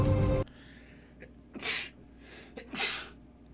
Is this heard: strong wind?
no